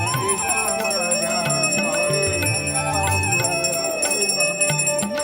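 Small bells rung by devotees at the Kheer Bhawani temple during the mela, a dense, continuous clangour of overlapping metallic rings with a crowd murmuring beneath.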